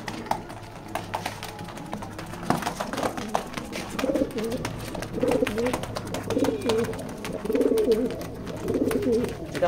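Pigeons in a loft coo in repeated soft, throaty phrases at close range, mixed with scattered clicks and rustling, the cooing growing busier toward the end.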